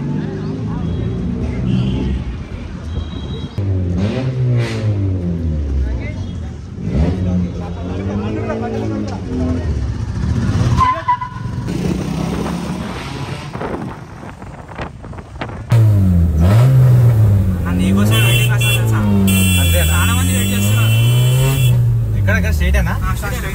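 Vehicles at a college auto expo rev their engines in repeated rising and falling sweeps, loud and close with wind buffeting, while people talk nearby throughout.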